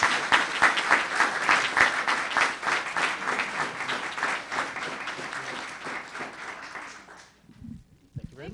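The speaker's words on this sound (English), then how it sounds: "please join me in a round of applause for the great work." Round of applause at a town council meeting, many hands clapping steadily for about seven seconds before fading out, with a brief voice near the end.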